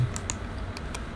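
Several quick keystrokes on a computer keyboard, Ctrl and X shortcut presses, close and crisp, a few separate clicks over faint room hiss.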